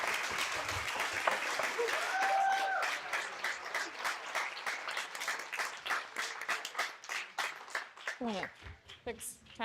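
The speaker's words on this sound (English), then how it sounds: "let's give them another round of applause" Audience applause at an astronomy talk night, dense clapping that thins out into scattered individual claps, with a person speaking near the end.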